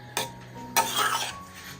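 Two sharp metallic clanks ring out close by as the lid of a pressure cooker holding cooked urad dal is opened after its steam is let out, with no talk.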